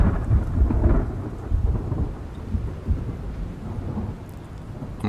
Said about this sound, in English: put in the thunder